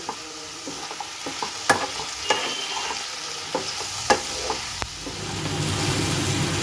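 Eggplant, beans and small shrimp fry in oil with chili powder and turmeric over a low flame, a soft continuous sizzle broken by sharp, irregular clicks and scrapes of a spatula stirring the pan.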